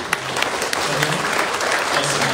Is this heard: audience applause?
yes